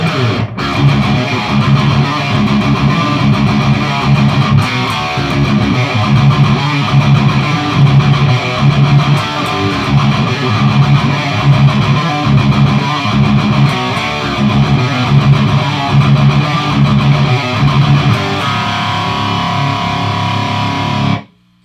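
Electric guitar riff played through a Peavey 6505 MH amplifier with pedals off, loud, heavily distorted palm-muted chugging in a tight repeating rhythm, continuous and alone before cutting off sharply at the end.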